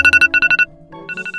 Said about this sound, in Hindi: फोन अलार्म की आवाज परेशान करने वाली ही बहुत है